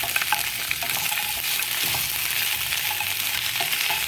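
Chopped okra fries in a pan with a dense, loud, continuous sizzle, close up, with faint stirring scrapes and no talking.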